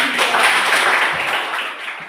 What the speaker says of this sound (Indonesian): tepuk tangan untuk kelompok teman-teman